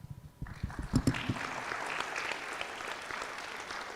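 An audience at a regional forum panel session bursts into applause after a brief pause, clapping rising quickly into a sustained, dense round that stays steady to the end.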